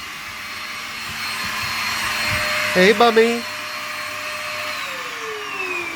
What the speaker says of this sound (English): it's currently hoovering